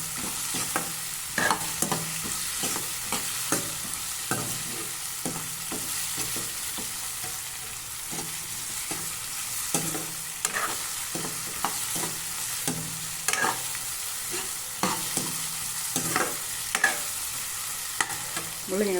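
Radish sautéing in oil in a pan, a steady soft sizzle broken by repeated scraping and clinking strokes of a spoon stirring, close and without any voices.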